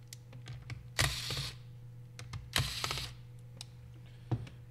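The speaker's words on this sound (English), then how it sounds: "You have to remove the two screws right in front of the laptop." A screwdriver works at the screws on the underside of a Lenovo IdeaPad 300 laptop, producing close, quiet clicks and two longer scraping rasps over a low background hum.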